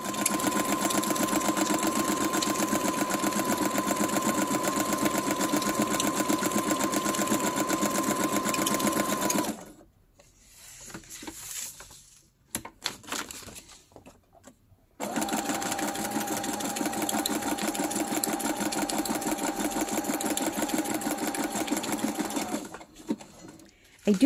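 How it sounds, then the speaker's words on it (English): A sewing machine stitching the edges of a paper journal made from one sheet, running steadily and loudly for about ten seconds, pausing, then running again for several more seconds. "So I'm gonna sew this side here and this side here."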